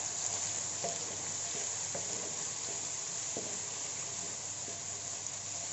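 Steady sizzling of Sate Padang spice paste frying in a hot pan, a constant hiss with occasional soft stirring scrapes, fairly quiet and close.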